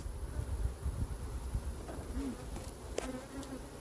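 Bees buzz around a troubled beehive, a continuous low droning hum close by with a few brief louder tones rising over it.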